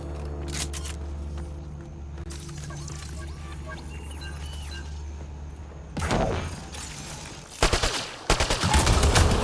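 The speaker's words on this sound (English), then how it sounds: "Shooting the device will destroy it." Gunfire from Mass Effect Andromeda as a device is shot and destroyed: bursts of loud, sharp shots in the second half, heard over a steady humming game soundscape with a low drone.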